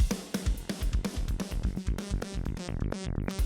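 A drum track processed through the Waves OVox plugin with a long crossfade morph gives steady, punchy hits overlaid with a tonal, voice-like sweep that shifts in pitch as the pattern repeats.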